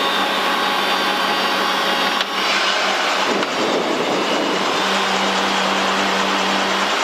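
A helicopter's air-cooled, horizontally opposed reciprocating piston engine runs loudly close by in a dense, steady roar with broad rushing noise, shifting slightly partway through as a low tone settles in.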